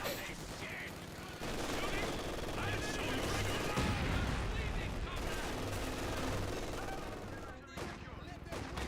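M442 firing in the Company of Heroes 2 real-time strategy game, dense bursts of gunfire and rattling volleys over a rumbling battlefield, continuous and loud, with a commentator talking over the combat.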